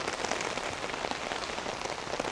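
Rain pours steadily onto surfaces along a hilltop path on the outskirts of Seoul, a dense, continuous hiss and patter throughout with no voices.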